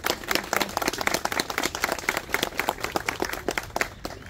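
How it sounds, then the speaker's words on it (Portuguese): A crowd applauds during a plaque unveiling honoring the bicentennial of German immigration in Brazil, a steady patter of many hands clapping at close range with no talking. "Aplausos!"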